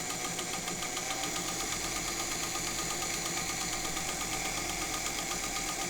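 A Singer 201K sewing machine runs at a steady pace while stitching, giving a continuous, even whirring hum with a fast rhythmic ticking, close and moderately loud with no talking.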